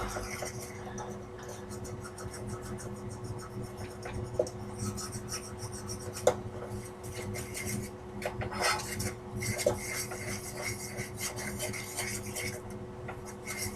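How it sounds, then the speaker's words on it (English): Flour and butter being worked together into a roux in a pan for creamy mac and cheese, a steady run of scraping and clinking utensil strokes against the pan bottom, close and continuous with a few sharper knocks. "you want to mix this up real well, your flour and your butter."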